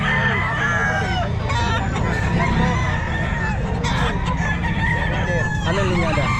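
Sweater gamefowl rooster crowing repeatedly at a busy pet market in Bocaue, loud and close over a dense bed of other crowing birds and crowd noise.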